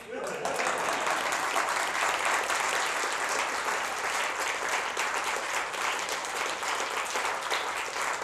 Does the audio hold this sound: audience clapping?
yes